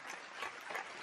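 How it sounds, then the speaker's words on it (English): Brief burst of audience applause for Dr. Delbert Blair, a soft wash of many hands clapping together, faint and steady for about a second. "Let's give Dr. Delbert Blair a well-deserved round of applause."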